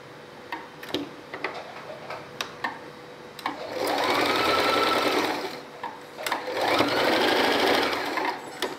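A sewing machine stitching a child's frock, with two loud sustained runs of close, rhythmic stitching, separated and preceded by ticking handling clicks.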